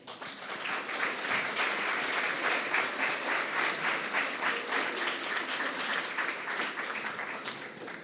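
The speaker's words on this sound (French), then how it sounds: "Il me semblait que les applaudissements étaient un petit peu mous." Audience applause fills a hall at a French eloquence tournament's elimination evening, a steady dense clapping from a large crowd that holds at even loudness throughout without voices.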